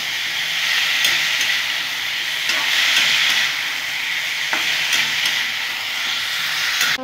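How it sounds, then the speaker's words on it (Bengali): Chopped banana stem and potato frying in a pan with cumin, coriander, ginger and green and red chillies, giving a steady, close sizzling hiss with occasional light pops and clicks; no one speaks. "ভালো করে মশলার সাথে আমি কষে নেব থোর আর আলুটা।"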